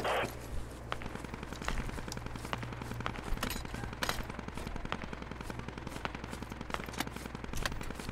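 Rapid gunfire in a squad-based shooter video game, a steady stream of sharp automatic shots at moderate distance, repeating rhythmically throughout.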